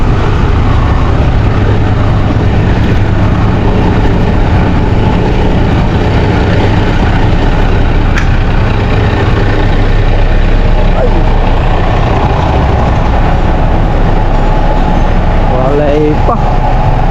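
A newly installed compressor runs loudly and continuously, a steady droning engine-like rumble heavy in low tones that fills the whole stretch at constant volume, with faint squeaks and clicks near the end.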